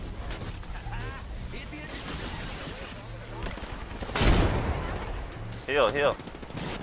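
Bursts of gunfire in the battle royale shooter Apex Legends, a loud shot around the middle and more firing near the end, mixed with in-game sounds while a player talks over it.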